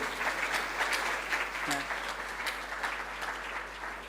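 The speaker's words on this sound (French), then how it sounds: "on peut les applaudir tout, hein, s'il vous plaît" An audience at a prize-giving ceremony for a writing competition in Monaco claps steadily throughout, with a voice briefly audible over the applause.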